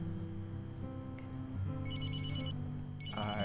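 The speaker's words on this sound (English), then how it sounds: "I think your purse is ringing." Phone ringtone chiming from inside a purse, a melodic electronic tune of repeated beeping notes over a soft background hum, fairly faint and with no talk.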